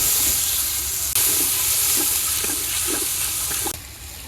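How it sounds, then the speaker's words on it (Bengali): Loud continuous hissing sizzle as water hits a hot pan of frying turmeric and chilli powder masala, steady throughout, with a few soft clinks, fading slightly near the end. "পানি দিয়ে দিলাম"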